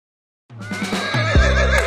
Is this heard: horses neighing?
yes